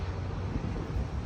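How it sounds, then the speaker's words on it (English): Steady wind buffeting a microphone on a condominium balcony garden, a dense continuous low rumble with no pauses and no voices. "It wouldn't be a condominium balcony without the wind"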